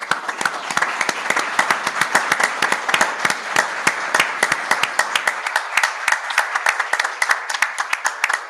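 A small audience claps at the close of an architecture lecture on territorial planning, with distinct, crisp individual claps forming a lively irregular patter that carries on steadily throughout.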